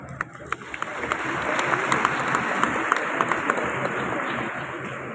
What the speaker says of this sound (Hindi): आप लोग तालियां बजा रहे हैं